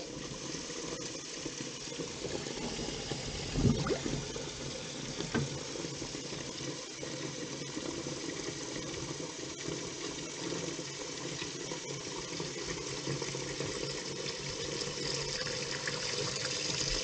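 Water drains steadily from a kitchen sink during a plumbing check for a bubbling toilet, a continuous close rushing wash with no gurgling and one brief louder splash early on.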